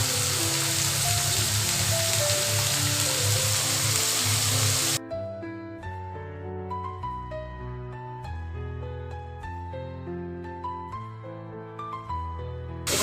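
Bitter gourd and small red Bogura potatoes frying in a pan give a loud, steady broadband sizzle for about five seconds under background music, then the sizzle cuts out and only the music continues.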